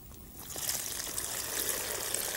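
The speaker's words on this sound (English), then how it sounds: "Then mix some lukewarm water with the salt and pour that over the lemons." Lukewarm salt water pours over lemons in a jar to make a brine, a steady bright trickle and splash running without pause, close and fairly loud.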